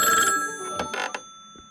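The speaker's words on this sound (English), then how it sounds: "And Ron is going to phone me on my cell phone." A cell phone rings with an incoming call indoors, a bright electronic ringtone trilling loudly for a moment and then breaking into a few shorter bursts before fading.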